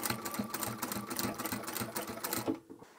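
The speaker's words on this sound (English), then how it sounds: "I'm going to stitch to the stitching line of the fabric underneath and back stitch" A sewing machine stitches through the fabric of a large DIY duffle bag, running in a fast, steady mechanical chatter for a few seconds before stopping abruptly near the end, heard close up with no talking.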